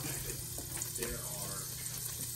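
Water runs steadily from a tap into a sink with a faint hum underneath, with no voices over it.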